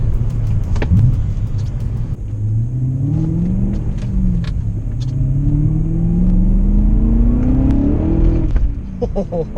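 A BMW M5 E39, back on the road after timing chain guide repairs, revs and pulls through its gears from inside the cabin, a low rising and falling engine drone with steady road rumble beneath it.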